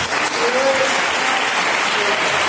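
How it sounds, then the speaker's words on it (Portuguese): A church congregation at a sermon service claps in a loud, continuous wash of applause, with faint voices and a brief whistle-like tone beneath it. "Dê uma salva de palmas para Jesus."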